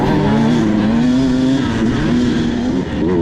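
A 2022 Beta 200RR Race Edition two-stroke motorcycle engine with an RK Tech insert, ridden up Eagle Valley, holds a loud, steady drone that rises and falls slightly as it revs close by, with no talking.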